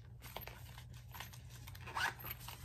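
The zipper pocket on the back of a cork wallet is pulled open, a quiet close ratcheting zip with small rustles and a brief louder burst near the end.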